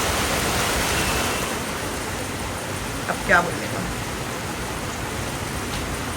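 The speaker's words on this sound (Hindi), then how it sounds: "और ऊपर से बारिश इतनी जोर से" Heavy rain pours in a steady, dense hiss throughout, with a short spoken phrase briefly heard over it.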